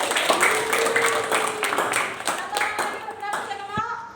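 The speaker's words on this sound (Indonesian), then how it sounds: "Kasih tepuk tangan." Students in a classroom clap briefly in a scattered burst while voices talk and call out over it.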